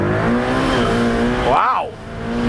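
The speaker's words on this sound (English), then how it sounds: "Full off, how about a launch now? Oh, launch button. Duh. Launch mode enabled." A 710 hp Ferrari F8 Spider accelerating hard from a launch-control start, its engine note climbing steadily in a loud, close, continuous roar with a brief pitch swoop near the end.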